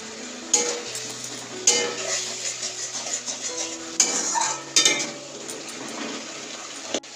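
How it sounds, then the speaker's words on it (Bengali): A spoon scrapes and stirs broccoli curry with spices and a little sugar in a pan, in bursts of clattering strokes over a low sizzle, close and moderately loud. "বেশ ভালো করে নাড়াচাড়া করতে হবে, আর মশলাটাকে না ভালো করে কষাতে হবে"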